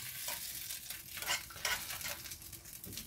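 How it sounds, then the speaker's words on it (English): Onions frying in a pan, a soft steady sizzle with a few light scraping stirs of a utensil, faint and close with no talk. "I'm just going to add the onions back in."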